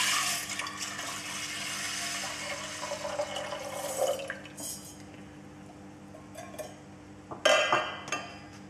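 Water pours into a pressure cooker holding green gram on a stove, a steady splashing stream that fades, then a short second pour with metallic clinks of the pot toward the end.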